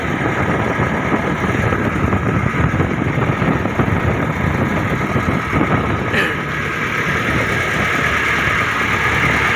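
A steady, loud boat engine idling nearby, a low continuous rumble with a rapid throbbing pulse, unbroken throughout.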